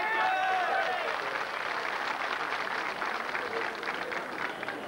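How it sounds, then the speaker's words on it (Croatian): Audience at a Serbian Democratic Party assembly in Nevesinje applauding steadily, a dense sustained wash of clapping and crowd noise that stays loud and even throughout. "Eto vaš je aplauz"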